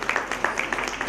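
Audience applause welcoming guests at the Shikshana Seva Ratna 2024 awards ceremony at the Karnataka Press Club, a dense, steady patter of clapping that holds at a moderate level for about a second.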